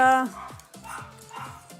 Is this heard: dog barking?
yes